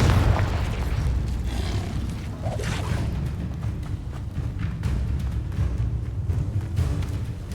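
Blasting-curse explosions from Confringo spells in Hogwarts Legacy, with deep booming bursts rumbling over continuous battle noise, loud and close, with no gaps.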